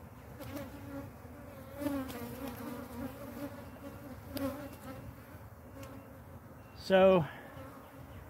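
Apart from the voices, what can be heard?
honey bees buzzing at hive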